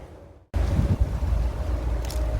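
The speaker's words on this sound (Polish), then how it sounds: "Nasila się wiatr." Strong wind buffets the microphone in a steady, loud roar after a brief quieter moment at the start, with no voices, outdoors among banana fields near Mersin, Turkey.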